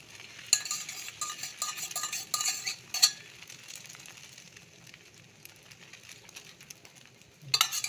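Beaten egg hits a hot pan for a dosa and sizzles in a few sharp bursts with stirring clicks, then settles to a faint hiss before another burst near the end, close and with no talking.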